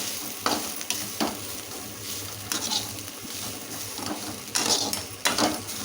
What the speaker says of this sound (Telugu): చింతాకులోనే పసుపు వేసి వేయిస్తున్నానండి